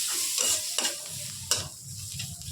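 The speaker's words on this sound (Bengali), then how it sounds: "এবার আমি পেঁয়াজের সঙ্গে ভালো করে মিশিয়ে নেব" Grated papaya being stirred with onions in a frying pan, a soft sizzle under several sharp spatula scrapes and clacks against the pan, close and uneven in rhythm.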